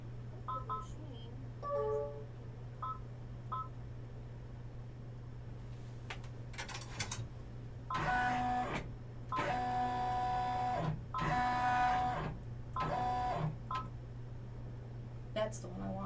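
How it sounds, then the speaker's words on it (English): Embroidery machine stitching, heard as quiet bursts of rapid, evenly pitched mechanical tapping in several separate runs over a constant low hum, close by, with soft talk in the background. "hopefully the machine doesn't push everything out of the way when it moves"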